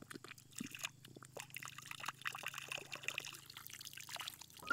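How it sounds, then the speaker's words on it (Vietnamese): A clear, cold stream of water pours and trickles steadily from a tap beside rice fields, a soft, continuous gurgle close by with no talking. "Và vòi nước này các bạn này. Nước trong vắt này."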